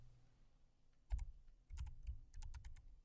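Keys clack on a computer keyboard as an email is typed, arriving as a single tap and then a cluster of close keystrokes over a quiet background, with no speech.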